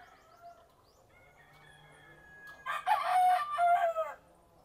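Chickens with chicks: faint, thin peeping comes first, then a nearby rooster lets out one loud, drawn-out crow near the end.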